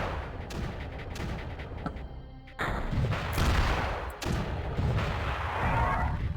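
Missiles fire in the strategy game Creeper World amid explosive booms and crackling blasts, loud and repeated, with several sharp launches and a dense roaring barrage toward the end.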